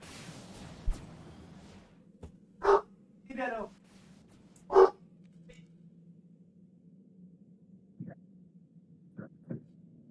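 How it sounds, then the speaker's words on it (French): A neighbour's dog out for a walk at night barks a few times outdoors, with sharp separate barks and brief whines standing out over a low steady hum, followed later by fainter sounds. "Le voisin qui est parti promener son chien."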